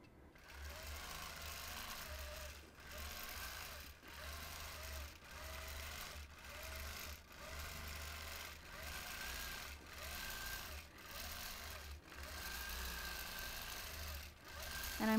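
Domestic sewing machine running steadily during freehand quilting of a chrysanthemum design, a continuous mechanical whir with regular brief pauses and restarts, close and moderately loud, no voices.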